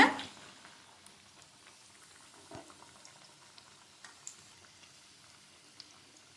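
Paruppu vadai, crispy lentil fritters, frying in hot oil and being turned over one by one: a soft, steady sizzle and bubbling with faint scattered clicks and taps, quiet throughout.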